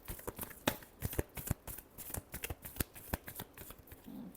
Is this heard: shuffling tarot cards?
yes